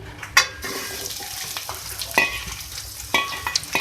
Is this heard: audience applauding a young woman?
no